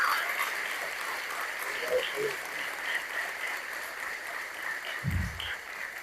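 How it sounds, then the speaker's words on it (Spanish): An audience at a poetry book presentation applauds steadily, a broad, dense clatter of many hands at moderate distance that continues evenly, with a brief low voice near the end. "vale un gran aplauso"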